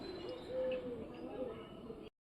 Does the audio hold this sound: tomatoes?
no